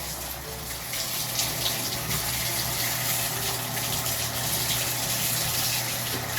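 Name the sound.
tap water rinsing neem oil off plant foliage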